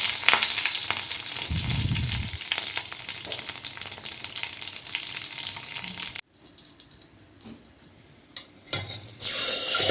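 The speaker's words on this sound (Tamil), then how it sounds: "அதில் கடுகு போடலாம் கடுகு கருவேப்பிலை போட்டு" Mustard seeds and curry leaves fry and sizzle in hot oil in a home kitchen while brinjal chutney is being made, a steady crackling hiss that drops away partway through and then returns loudly with no talking.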